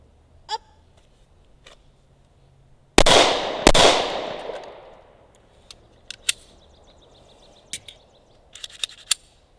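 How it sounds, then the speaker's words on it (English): A Smith & Wesson Shield .45 ACP compact pistol fires two sharp, loud shots in quick succession, each followed by a short decaying ring, with faint clicks and handling noises before and after. "shooting a 45 with the additional recoil on the small gun"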